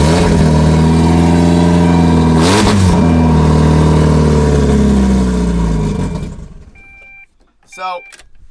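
A 1.8-litre Mazda Miata engine fires up and revs loudly up close, a rough roaring drone with a sharp rev burst before it cuts out into quiet, with a few brief small mechanical noises.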